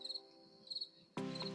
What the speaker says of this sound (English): Here's crickets chirping.